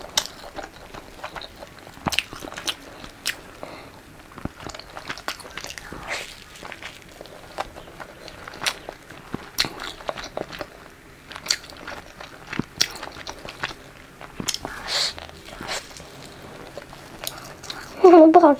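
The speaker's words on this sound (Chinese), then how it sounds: "第一次吃这个鸡蛋饼" Crunchy egg roll cookies being bitten and chewed close up, with sharp crackling crunches scattered irregularly over a faint background and a louder burst near the end.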